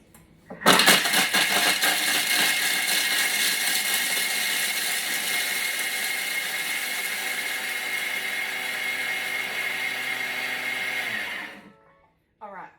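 A Thermomix blends red pesto at speed 9, roaring in abruptly and holding a loud, steady high-pitched whir for about ten seconds before cutting off sharply, followed by a brief clunk.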